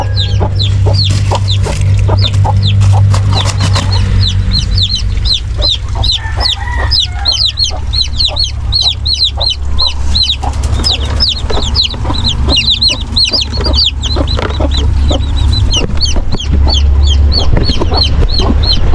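A flock of chickens clucks loudly and continuously beside a mother hen. The close, busy chatter carries on for the whole stretch with no talk.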